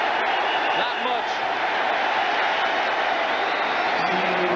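Stadium crowd at a 1989 New York Giants home game against the Detroit Lions, a broad, constant roar of many voices heard from a distance, with a commentator's voice over it.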